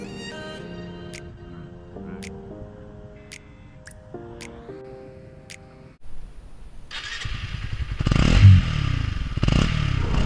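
Motorcycle engine heard close up: a quieter passage of tonal clatter and ticks, then the engine starts near the midpoint and revs loudly with rising and falling pulls.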